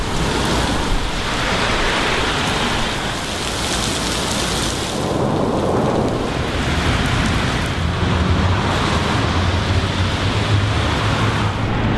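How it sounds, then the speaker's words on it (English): Heavy rain pours down around a bridge, a loud, dense and continuous roar of water that swells and eases slightly but never lets up. "Oh, now it's downpouring."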